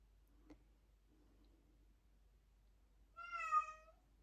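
A single short cat meow with a clear harmonic tone, fairly close, following a faint tick and quiet background hum.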